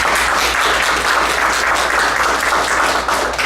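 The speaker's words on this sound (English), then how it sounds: "Give a round of applause to Dr. Gates." A thick, continuous round of applause from an audience at an orchestra film night, loud and even throughout with no voices breaking through.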